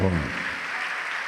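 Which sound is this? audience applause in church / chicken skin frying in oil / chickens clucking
audience applause in church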